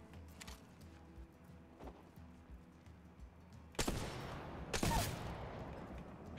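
Gunshots in the Apex Legends battle royale on the Olympus map, two loud sharp bursts of fire after a quieter stretch of faint distant shots, with background game noise throughout.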